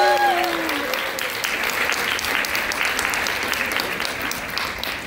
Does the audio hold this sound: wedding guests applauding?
yes